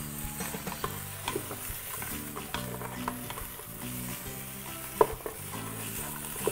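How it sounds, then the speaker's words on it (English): Pork leg being stirred in a pressure cooker used like a wok, a steady sizzle broken by repeated scraping strokes and a sharp metal clink, with soft music in the background. "Okay, give it a few stir."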